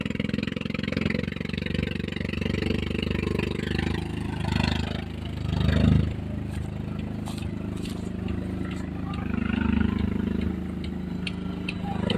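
A green drag racing car's engine idles with a steady low rumble, rising in a brief rev midway, while a voice talks over it.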